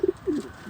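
A pigeon in a loft gives a few soft, close coos: two quick low notes, then a longer rolling coo, with a quieter one trailing at the end.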